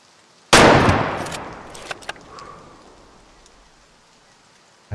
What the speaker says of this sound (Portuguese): O tiro agora foi perfeito